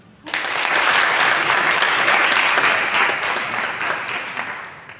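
At a research results workshop in Côte d'Ivoire, an audience breaks into applause that starts abruptly and stays loud and dense. It then slowly fades over the next few seconds.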